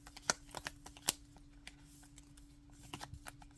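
Playing cards are handled close by in a quiet room, giving soft flicks, snaps and riffling ticks scattered at an uneven pace over a faint steady hum.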